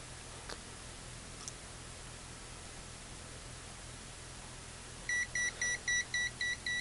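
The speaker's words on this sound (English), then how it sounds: "we started beeping on this Kaiweets meter" Kaiweets HT118E digital multimeter giving an overcurrent warning at around 10 amps: a rapid series of about seven short, evenly spaced high beeps begins near the end, over faint background hiss.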